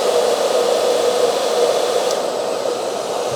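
A Berta salon hair dryer runs steadily and loudly on its own, giving a constant airy whoosh throughout with no pauses and no voices.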